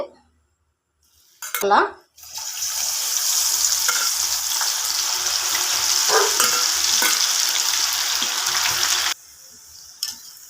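Soya chunks frying in hot oil in a pan. A clatter of utensils gives way to a loud, continuous close sizzle for several seconds, then it cuts off, with light talk.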